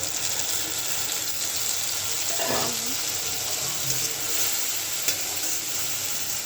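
Onions fry in a pan with spices, sending up a steady, close sizzle with a brief scrape of stirring midway and no talking.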